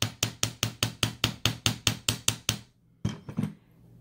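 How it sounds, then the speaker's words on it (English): Hammer blows flatten and harden wire for a beginner's toe ring, about a dozen sharp, evenly spaced metallic knocks in steady rhythm, then a brief pause and a few quicker, lighter taps, close and clear with no talking. "When you hammer your wire, it's going to harden it."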